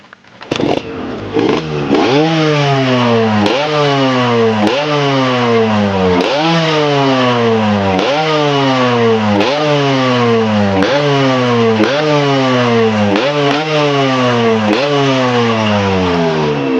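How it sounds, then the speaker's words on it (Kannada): A Yamaha RX two-stroke motorcycle engine starts up, then revs repeatedly in a steady rhythm of rising, crackling buzzy bursts, loud and close, over about fifteen seconds with no talking. "ಇಡೀ ಇಂಡಿಯಾದಲ್ಲೇ ಓಡಾಡಿ ಬಂದಿರೋ ಈ ಗಾಡಿ ಸೌಂಡ್ನ ಒಂದ್ಸಲಿ ಕೇಳ್ಬನ್ನಿ"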